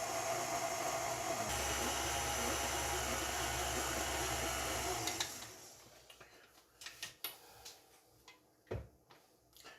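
A stand mixer runs on low speed kneading sourdough bread dough, a steady loud motor drone for about five seconds that then cuts off, followed by scattered knocks and clunks near the bowl.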